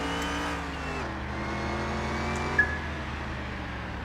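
Car engines hum and whine during a race replay in Car Mechanic 2021 against a Lamborghini, a steady droning tone that shifts pitch as the cars run, with a small sharp blip near the end.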